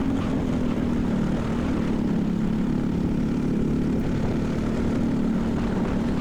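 An LO206 racing kart engine during a race, a loud, unbroken droning roar heard close for the whole stretch, steady in pitch with no voices over it.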